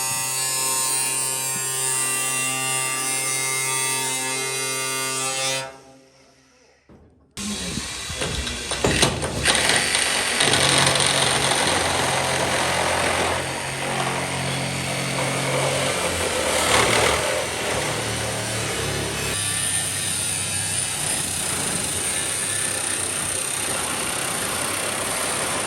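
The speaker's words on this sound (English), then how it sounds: "Then it was time to start to cut across the back of the car under the window opening." A power tool cuts across the back of a 1950 Mercury body below the rear window opening. A loud, continuous mechanical whir grinds on close by, with a short pause early on, then keeps running with rattling metallic texture.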